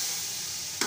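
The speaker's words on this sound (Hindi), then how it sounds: "मसाले को इतना पकाना है कि बस हमारी जो लहसुन अदरक की इसकी स्मेल है वो ख़त्म हो जाए इसमें से" Chicken masala with garlic and ginger cooks in a pot with a soft, continuous sizzle and hiss. A brief stirring scrape comes near the end.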